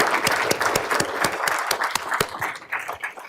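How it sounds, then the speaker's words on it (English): Audience applause at a 25th anniversary event for a national energy technology laboratory, thanking the event organizers; steady crowd clapping throughout with sharp individual claps standing out, fading slightly at the end. "So let's have a round of applause for them."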